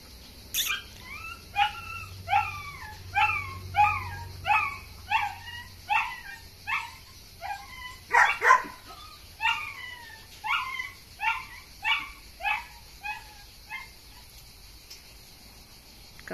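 A medium-sized female dog, about 45-50 cm tall, gives a long series of high, yelping whimpers and short barks at an even rhythm, with a faint steady insect buzz behind.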